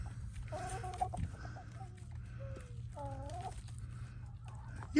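Free-ranging backyard chickens, a big Brahma among them, cluck and chatter intermittently at close range over a steady low outdoor rumble, with several separate calls and no talking.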